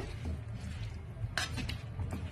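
Raw banana pieces being stirred up and down in a pan with a utensil, giving soft scraping and a few faint clinks against the metal over a low steady background.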